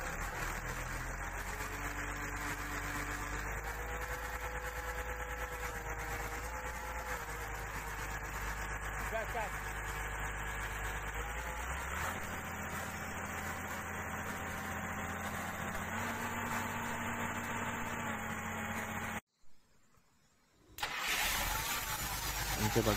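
Komatsu PC200-6 excavator diesel engine, running low on power with black smoke, revving up and down steadily at close range; the engine cuts out briefly near the end, then restarts.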